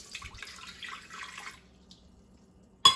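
Filtered water pours steadily into a blender for about a second and a half, a soft splashing rush that then stops, followed by a faint clink and a sharp knock at the end.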